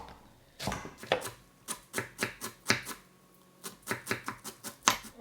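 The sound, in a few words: chopping parsley and carrot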